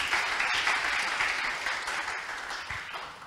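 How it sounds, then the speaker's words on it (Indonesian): Audience applause at an Indonesian talk event on embracing diversity, a dense, steady wash of clapping from a crowd, sustained throughout and slowly tapering at the end. "Buat tepuk tangan dulu untuk teman-teman semua."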